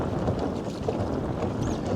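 A small modular boat moves under a 3 hp outboard motor at half throttle, a steady low drone mixed with wind rush and water noise throughout, no talking.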